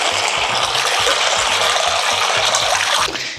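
Water gushes steadily from a tap onto chickpeas with a little baking soda, a full, continuous rushing pour that runs for about three seconds and then cuts off.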